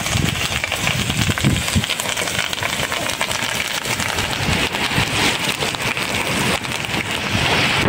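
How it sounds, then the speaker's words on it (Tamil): Light drizzle falls outdoors in cool weather, a dense, even patter and hiss that holds steady throughout. "பாருங்கள், சாரல் விழுந்துட்டு இருக்கு"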